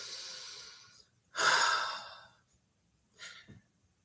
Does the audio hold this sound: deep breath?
yes